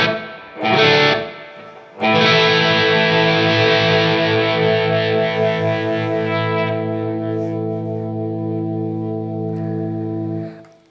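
Electric guitar played through a cover-band pedal board with reverb and some distortion: a short strum, then a loud sustained chord that rings on and slowly fades with a washy, spacious tail.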